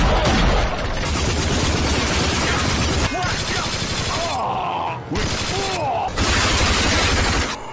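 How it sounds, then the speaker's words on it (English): Loud, sustained gunfire from the RAGE video game arsenal, dense volleys of rapid shots and booming blasts filling the whole stretch with only brief dips between bursts. "have a quite respectable and diverse collection of guns with which to pump lead into your enemies"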